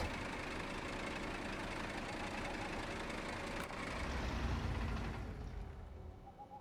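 A Navistar truck's engine idles in the Snowrunner game, a steady low diesel rumble that swells slightly before dropping away as the engine shuts off near the end.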